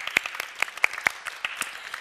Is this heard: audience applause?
yes